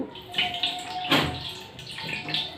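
Water poured over a small Gopal figurine during its ritual bath, heard as close splashing pours in a few uneven bursts with some brief trickling between them.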